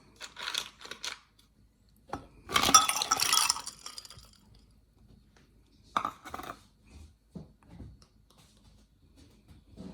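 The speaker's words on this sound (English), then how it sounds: "And we're gonna put some ice cubes in it." Ice cubes drop into a glass with bright clinks and a short rattling clatter, followed by a few scattered lighter taps in a quiet room.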